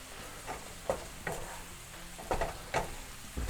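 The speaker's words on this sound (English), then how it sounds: "we're going to aggressively stir this in" Flour stirred hard into a pan for homemade biscuit gravy, a steady hiss with several sharp scraping strokes of the spoon against the pan, close and clear, with no talking.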